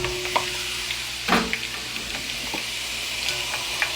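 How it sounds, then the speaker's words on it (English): Small pieces of garlic sizzle and fry in a pan alongside fries, a steady crackling hiss with occasional sharper pops and a stirring scrape, heard close with no talking. "So as the fries is cooking"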